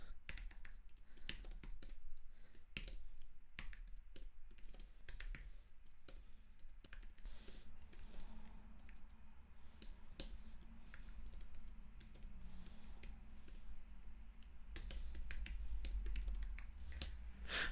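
Fast, continuous typing on a computer keyboard, a quiet and steady stream of close key clicks with a low hum underneath and no talking.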